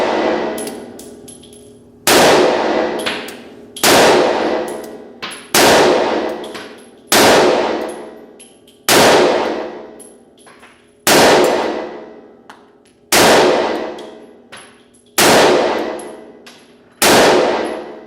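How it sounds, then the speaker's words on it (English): An FK BRNO Field Pistol fires about nine sharp shots at a steady pace inside an indoor shooting range, each crack followed by a long, ringing reverberation that fades before the next. "Listen to this f***ed up reverberation whenever I shot it indoors"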